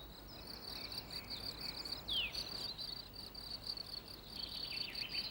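Steady, high-pitched chirping of male crickets pulses on continuously, clear and fairly close, with a faint bird call cutting in briefly.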